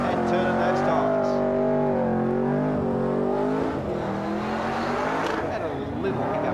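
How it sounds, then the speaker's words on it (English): A small HQ car performs a burnout at a Summernats burnout elimination event, its engine revving high and steady with a continuous roar of spinning tyres while a commentator talks over it. "boy, does he like winging that engine and turning those tyres"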